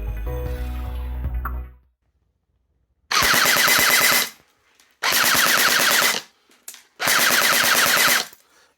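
A Double Bell 808 KAC PDW airsoft gun fires three loud full-auto bursts of roughly a second each, separated by short pauses, with rapid mechanical rattling clicks and no voices.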